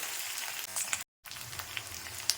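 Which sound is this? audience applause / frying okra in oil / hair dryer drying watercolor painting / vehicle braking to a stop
frying okra in oil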